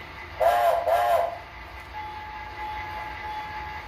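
Two short whistle blasts from a model locomotive's installed sound system, followed by a faint steady electronic hum; small and close, no talking.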